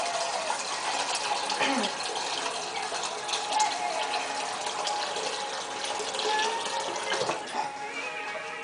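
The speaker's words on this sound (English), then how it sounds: "we want to fill our pot with about 6 to 8 cups of water" Water runs from a kitchen tap into a cooking pot, a steady, fairly quiet gushing stream that continues without pause for several seconds.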